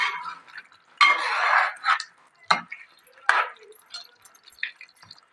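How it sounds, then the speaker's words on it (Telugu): Chicken curry being stirred in a pot, with irregular wet scraping and clinking bursts separated by short quiet gaps, close by. "మంచి ఇట్లా కలుపుకోవాలి."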